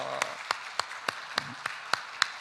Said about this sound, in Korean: 영광의 박수를 주님께 올립니다.